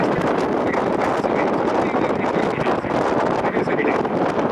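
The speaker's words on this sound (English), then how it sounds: "That's why it's always cold and windy here." Wind blows over a boat on cold, windy water, a steady, loud, rushing roar buffeting the microphone without pause.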